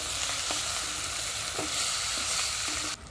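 Shrimp and onion fry in a hot pan, giving a steady, dense sizzle with occasional soft clicks of stirring, close and continuous, with no voices.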